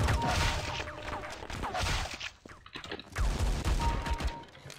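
Rapid video game gunfire, loud bursts of shots crackling in quick succession with brief gaps, while a player occasionally speaks over the action.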